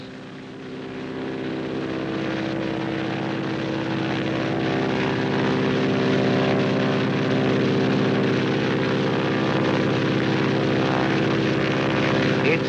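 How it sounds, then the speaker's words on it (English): Propeller plane flying on an emergency call, its engine giving a continuous droning hum with steady tonal harmonics that swells slightly at first and then holds loud and even throughout, with no talk. "15 minutes after an emergency call has come in, the plane is usually in the air."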